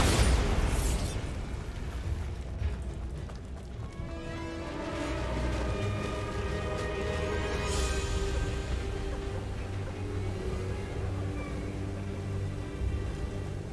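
Bombarda explosion spell in the video game Hogwarts Legacy, a booming blast that fades into a low rumble with rushing debris over steady ambient game sound.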